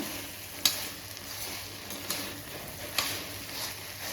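Meal maker soya chunks sauté in a pan with a soft, steady sizzle and occasional sharp clicks of a spoon stirring against the pan.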